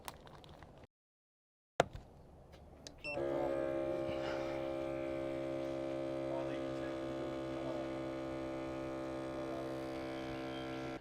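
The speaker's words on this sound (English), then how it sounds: "I'm going to vac seal one of our watt meters" A vacuum sealer holding a bag with a watt meter inside starts with a click and then runs with a steady, loud motor drone that continues to the end.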